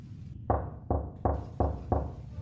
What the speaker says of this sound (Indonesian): Tiba-tiba terdengar ketukan pintu dari ruang depan.